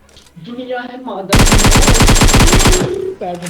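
Rapid automatic gunfire in a battle royale video game, a loud sustained burst of closely spaced shots lasting about a second and a half, with faint voices before and after.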